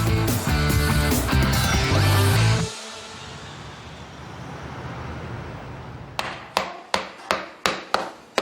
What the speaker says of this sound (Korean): 뼈를 망치로 내려치는 작업자